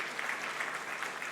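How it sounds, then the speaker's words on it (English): An audience clapping in a steady, dense round of applause, continuous and moderately loud with no voices over it. "Keep the round of applause going"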